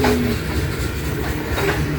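A train rolls past close by and slows ahead of a crew change, a steady loud rumble with faint wheel clatter and a brief high squeal at the start.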